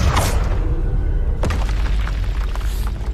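Expelliarmus disarming spell impact in Hogwarts Legacy: a deep booming hit with a brief whooshing sweep up front, then a second sharp strike followed by rumbling, crackling debris.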